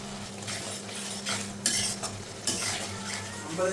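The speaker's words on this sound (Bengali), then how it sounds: "এখন এটাকে তেল ছাড়া পর্যন্ত ভালো মতো কষাতে হবে" Fish with salt, turmeric and cumin sautéing in oil in a pan, with steady frying sizzle and repeated scraping and clinks of a spatula stirring, close and fairly loud.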